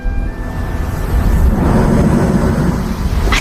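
A heavy storm with thunder and wind-driven crashing waves against a lighthouse in the Farne Islands, a continuous loud low rumble that swells and holds steady throughout, with no voices.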